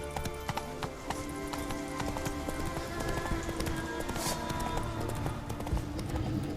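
A horse galloping in the video game The Witcher 3, fast rhythmic hoofbeats running steadily and close throughout, with faint ambient game sounds behind.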